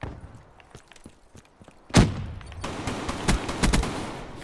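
Haymaker gunfire in Black Ops 3, a few soft shots and then a sudden loud burst of automatic fire with several sharp repeated bangs near the end.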